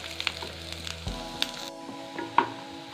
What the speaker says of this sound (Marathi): मकेचे दाणे असे भाजायला लागले की चांगले फुलून निघतात दाणे चांगले फुलायला लागलेले असे दाणे चांगले भाजून घ्यावे